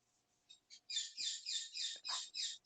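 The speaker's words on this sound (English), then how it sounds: "Oh, your birds agree." Small caged pet birds chirp in a quick run of bright, high tweets that grow louder and busier after a few sparse calls, close by indoors with no talking.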